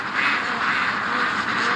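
A flock of ducks, stirred up near a house, keeps up a dense, continuous chatter of overlapping calls at close range, with no talking over it.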